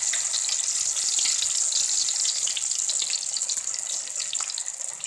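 Vegetable lollipops deep fry over a medium flame, the hot oil giving off a steady, dense, hissing sizzle that stays loud and close without pause.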